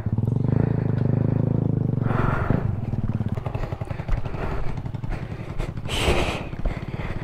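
A motorcycle rides a rough, rocky dirt road between Santo Tomas and Kalagangan in Davao del Norte with damaged brake lining, its engine droning steadily under loud rattling and clattering from the bumpy track.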